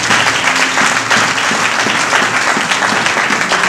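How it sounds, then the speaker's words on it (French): A church congregation claps for the Lord during a French-English sermon service, with loud, dense, sustained applause filling the whole stretch from a large crowd. "Clap for the Lord."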